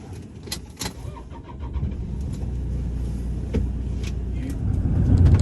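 A second-generation Toyota RAV4 with the D4D diesel engine drives along, its engine a steady low rumble that builds slightly toward the end, heard from inside with some faint clicks and rattles.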